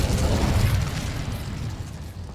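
Casting the Incendio fire spell in Hogwarts Legacy sets off a loud, rushing burst of flame that starts strong and then slowly dies away into a roaring hiss.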